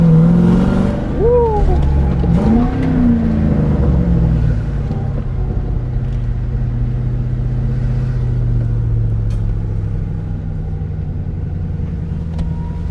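A Ford Mustang Mach 1, recently pulled from under a tarp, rumbles nearby with a couple of throttle blips that rise and fall early on, then settles into a steady, deep idle.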